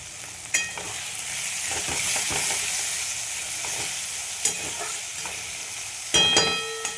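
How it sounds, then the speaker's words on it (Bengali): Onions frying in oil in a pan alongside bay leaf for a thin mutton curry, a steady close sizzle with occasional stirring scrapes and clinks of a utensil, no voices. "পেঁয়াজটা ভেজে নেব।"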